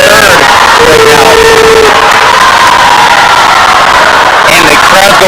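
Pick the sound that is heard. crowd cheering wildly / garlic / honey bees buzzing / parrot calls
crowd cheering wildly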